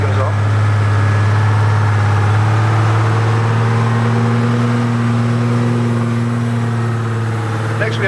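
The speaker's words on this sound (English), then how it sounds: "you'll hear the burble of the magnificent two-stroke engine" A two-stroke diesel Foden truck engine at a parade runs with a steady, deep burble and droning hum, loud and close, holding a constant rhythm throughout.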